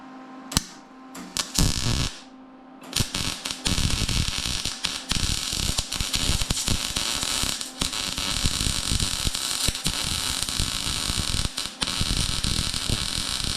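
MIG welding on a Yamaha G1 golf cart driver-side bag bracket: a steady crackling, sizzling buzz that runs almost continuously after a brief start, with short gaps between beads, close and fairly loud.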